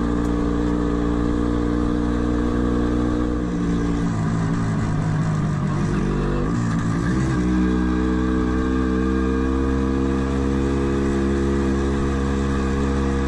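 Steady engine drone of a vintage MZ TS 250-1 two-stroke motorcycle being ridden, a continuous close hum with a brief dip and rise in pitch midway, no talk.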